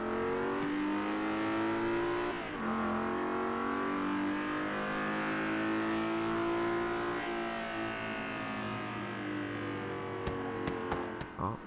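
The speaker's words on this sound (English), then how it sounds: "Oh, it's backfiring a lot." A car engine in Forza Horizon 3 revs and holds a steady roaring drive tone, with a few sharp crackling pops from backfiring near the end.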